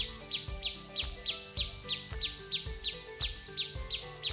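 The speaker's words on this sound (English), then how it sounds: "In the early morning, we always hear the chirping of birds." Birds chirp in the early morning with a steady, evenly spaced series of high tweets over a faint background hum.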